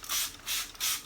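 A spray bottle mists a plant leaf in three quick, hissing bursts with brief pauses between them, close and fairly soft, with no talking.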